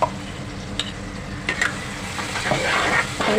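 Ground masala paste stirred into aubergine, potato and jackfruit-seed vegetables in a pan, a soft scraping and faint sizzle with a couple of sharp spoon knocks against the pan.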